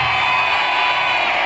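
A group of children in a classroom workshop shout hooray together after building a house shape, making a dense, loud, continuous burst of voices that fills the whole moment.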